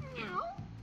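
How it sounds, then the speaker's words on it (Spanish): A short, rising-then-falling cat meow from the video game Conker's Bad Fur Day, heard clearly over a low background hum. "¿Qué es eso? Pues es gato, literalmente."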